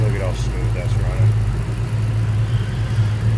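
A 2008 Ford Mustang Shelby GT500 idles steadily up close with a smooth, low rumbling drone, while faint voices and speech-like sounds come through over the engine.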